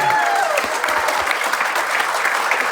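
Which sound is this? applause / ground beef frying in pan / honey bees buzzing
applause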